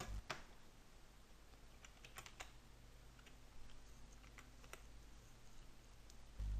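Keys on a computer keyboard are tapped in short clusters, a handful of quiet, crisp clicks spread over several seconds in a quiet room, with no talking.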